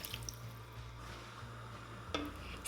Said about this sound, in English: Pour in the chicken stock and turn to high heat.